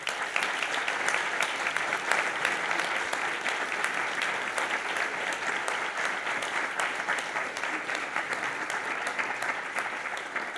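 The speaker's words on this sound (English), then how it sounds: "I'm very happy with this great applause" A lecture audience gives long, steady applause, dense and even clapping that fills the room at a constant level from start to finish, with no voices over it.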